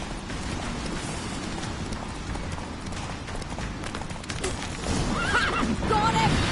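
Roach, Geralt's horse in The Witcher III, gallops with steady rapid hoofbeats, then lets out a loud whinny near the end, amid game sound and voices.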